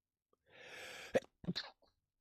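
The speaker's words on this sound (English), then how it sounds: "I was hoping to finish before I had to sneeze" A single sneeze, preceded by a noisy inhale and ending in a sharp double burst, close to the microphone with silence after.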